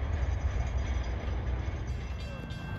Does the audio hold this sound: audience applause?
no